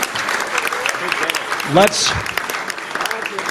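A live magic show audience claps steadily at close range, a dense wash of applause with a voice and a brief shout rising over it midway.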